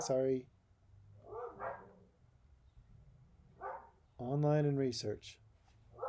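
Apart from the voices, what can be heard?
dogs barking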